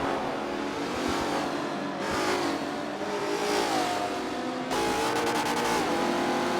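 A 1993 or 1994 Ford Mustang race car in a racing video game roars continuously, its engine revving up and down through gear changes with shifts in pitch and no talking.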